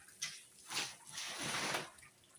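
Water pours from a hose into a newly built garden pond, coming in uneven splashing bursts that swell and fade a few times at close range.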